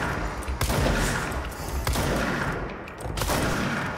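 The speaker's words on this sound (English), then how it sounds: "Yikes, someone else is shooting at me." Rapid gunfire bursts in the video game Control, with bangs and echoing booms mixed with explosive thuds, loud and dense, no speech.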